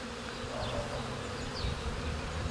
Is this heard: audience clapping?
no